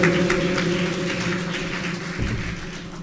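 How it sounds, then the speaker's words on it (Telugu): Church congregation applause during a Sunday sermon, a dense, even wash of clapping lasting a few seconds under a low sustained hum. "చప్పట్లు కొడదాం గట్టిగా"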